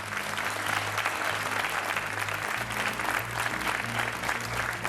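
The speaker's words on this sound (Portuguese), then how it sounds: "um aplauso para o teu filho que não está cá" A studio audience on a Portuguese TV game show claps loudly and continuously, with music playing underneath the steady applause throughout.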